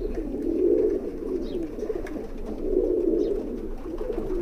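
High flyer pigeons cooing in a loft in Bhopal, a steady low rolling coo rising and falling in two long swells, close and fairly loud with no talk.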